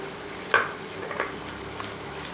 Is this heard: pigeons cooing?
no